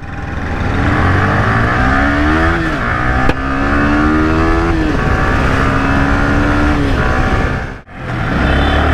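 Motorcycle accelerating at full power up onto a flyover, a loud sustained engine roar with rising harmonic sweeps as it climbs through the gears, briefly dropping near the end before surging again.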